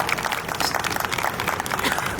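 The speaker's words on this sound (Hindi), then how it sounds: "एक बार जोरदार तालियां इनके लिए" Audience at a jagran applauding a singer with a dense, steady wash of clapping and crowd noise at fairly close range, lasting the whole moment without a break.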